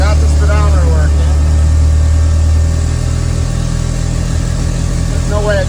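A fully built Mitsubishi Eclipse engine running loudly up close on its first drive. The deep droning tone drops to a lower, pulsing pitch partway through, like a gear shift, then keeps rumbling.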